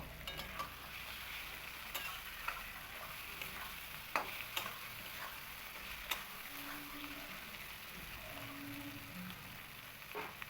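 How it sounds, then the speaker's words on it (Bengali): Fried pointed gourd cooked down in spice paste in a pan, a quiet continuous sizzle with occasional spoon clicks and stirring scrapes, close but soft, no talking. "পটলগুলো দিয়েও আমি এটাকে আরও কিছুক্ষণ কষিয়ে নেব।"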